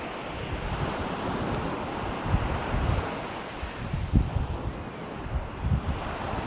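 Ocean waves wash in as a steady, soft surf roar mixed with wind buffeting the microphone. Gentle swells rise every second or two, and no one speaks.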